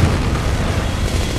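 A loud military blast from an IED explosion at a checkpoint, heard as a dense, sustained booming roar with no talk over it.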